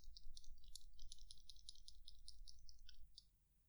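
A faint, close, rattling clatter from a broken camera accessory being shaken, with light metallic ticks coming in quick irregular bursts for about three seconds.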